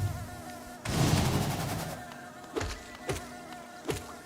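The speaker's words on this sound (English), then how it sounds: "Thank you, bees." A buzzing swarm of bees in Hollow Knight: a sharp whooshing surge of droning buzz, then thinner buzzing broken by three short clicking hits.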